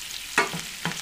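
Butter in a pan is stirred, with a couple of quick scraping strokes over a soft background sizzle.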